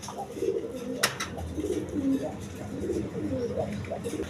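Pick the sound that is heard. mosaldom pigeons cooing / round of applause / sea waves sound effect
mosaldom pigeons cooing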